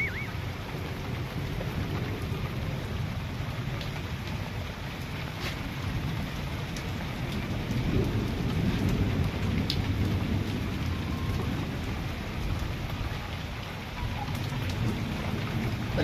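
Heavy rain pours steadily with deep rolling thunder rumbling beneath it, swelling louder through the middle before easing slightly.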